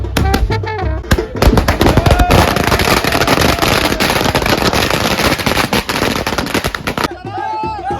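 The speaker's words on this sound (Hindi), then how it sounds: "और फिर शुरू हो गई आतिशबाजी।" Fireworks at a wedding procession crackle and pop in rapid bursts, loud and close, over crowd noise and music, then fade out sharply near the end.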